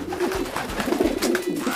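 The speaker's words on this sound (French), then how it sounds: "mais ces pigeons ont du culot!" Pigeons coo in soft, rolling low calls that repeat back to back at close range, with no voices over them.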